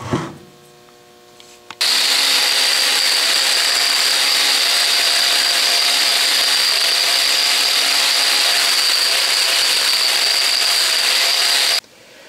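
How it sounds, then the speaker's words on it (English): A Porter Cable grinder with a wire wheel cleans the cast jaw of a Parker machinist vise: a loud, steady whine with a hissing scrub, running about ten seconds and then cutting off abruptly. "It's just a matter of wire wheeling it."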